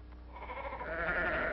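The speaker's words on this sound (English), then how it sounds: "No, those are sheep." Several sheep bleat together in a steady, fairly loud bleating chorus, the cries layered over one another throughout and growing slightly stronger toward the end.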